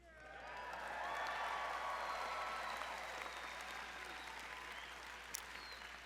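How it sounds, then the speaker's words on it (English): A large crowd applauds and cheers at a university doctoral commencement ceremony in San Diego. Dense clapping swells in over the first second, holds loud and broad, then eases slightly, with faint whoops mixed into the hall's reverberant roar. "You can cheer."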